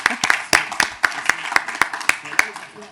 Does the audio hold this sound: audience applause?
yes